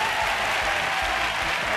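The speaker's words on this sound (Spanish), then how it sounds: "¿cómo sois tan cansinos ahora mismo? Aplaudiendo a que baile." An audience on a Spanish TV game show claps steadily to urge someone to dance, a dense, even roar of many hands with no pause across the brief stretch.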